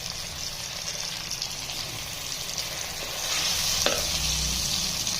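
A ground paste of coconut, sesame, cashew, onion and tomato dropped into hot oil for kofta curry, giving a steady close sizzle that swells louder partway through, with a brief scrape and no talking.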